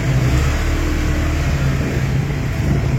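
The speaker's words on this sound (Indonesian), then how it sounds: "Kita berjalan naik motor terakhir" Motorbike ride down a narrow alley in Buleleng, Bali, with a steady loud engine drone mixed with heavy wind rumble throughout, no talking.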